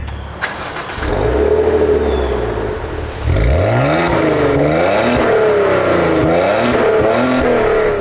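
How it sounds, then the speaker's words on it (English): A Maserati Levante's engine revs hard twice in sport mode, the sport exhaust roaring and rising in pitch each time before dropping back, loud and close. "when you put it in sport mode, you can hear the exhaust tones even better"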